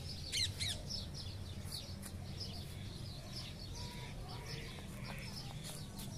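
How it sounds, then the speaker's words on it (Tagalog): Birds chirp outdoors in cool weather in the Philippines, with quick high calls early and scattered faint twittering over a steady low background rumble, no talk. "Mga ibon."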